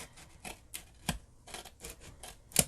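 Scissors snip through paper while a handmade flag book journal is being made: a series of crisp, close, fairly quiet cuts at an irregular pace, the last one sharpest.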